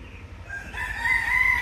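A caged rooster crows once at a safari park, a drawn-out rising call that swells and holds, fairly close and clear over low background rumble.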